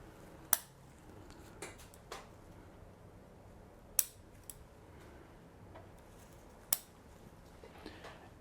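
Pruning shears make a few crisp, isolated snips on Japanese maple bonsai shoots, spaced irregularly over a faint background hiss, with no talking.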